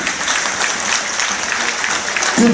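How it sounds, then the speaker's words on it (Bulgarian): An audience applauding a cup presentation at a sports event, a steady wash of clapping from a crowd, fairly loud and continuous, with a brief voice rising at the very end. "Аплодираме ви от сърце"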